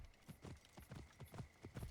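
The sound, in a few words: horse hooves clip-clopping in video game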